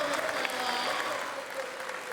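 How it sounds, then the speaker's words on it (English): An audience at a children's church service claps for the helpers, a continuous wash of dense applause filling the room at a moderate, even level with faint voices mixed in. "Let's give a big round of applause to all of our helpers."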